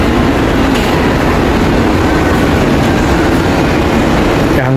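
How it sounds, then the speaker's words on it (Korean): Busan Metro Line 2 subway train at Suyeong Station, a steady loud rumble of wheels and motor filling the platform throughout, with a rising whine near the end. "부산 도시철도 2호선"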